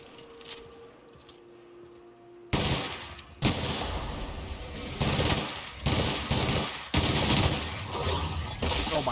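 Bursts of automatic gunfire in the sci-fi shooter The Outer Worlds, loud and close, after a quiet opening; several sustained volleys separated by brief gaps.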